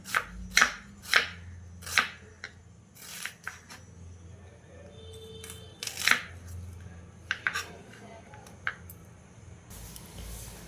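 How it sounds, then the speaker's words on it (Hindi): A knife chops two large onions on a board, giving a series of sharp, close taps, several quick strikes at first and then scattered ones with gaps between. "2 बड़े साइज़ के प्याज ले ली हूँ और उसे इस तरह से चॉप कर देना है"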